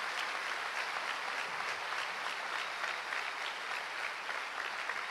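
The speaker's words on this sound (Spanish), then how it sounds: "yo quiero pedirles un muy fuerte aplauso para nuestros 926 graduandos de pregrado y posgrados." Sustained applause from a large crowd at a university graduation ceremony, steady and dense clapping filling the space without pause.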